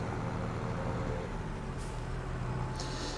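A truck in the Farming Simulator 23 game idles with a low engine rumble, then releases two short hissing air brake bursts near the end.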